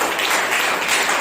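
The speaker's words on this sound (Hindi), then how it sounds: "जोरदार ताली बजाइए" A church congregation at a Sunday morning service applauds loudly in welcome, a dense, steady wash of clapping from many hands filling the room without pause.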